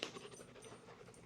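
Soft, quick panting from a dog, steady and faint in a quiet room, with no voices.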